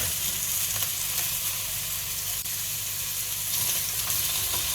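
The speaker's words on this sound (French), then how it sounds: "J'ai mis un filet d'huile d'olive. Non, d'huile normale. Dans ma poêle. Je vais du coup le laisser cuire." Food frying in ordinary cooking oil in a pan gives a steady, close, even sizzle and crackle that runs the whole time with no talking.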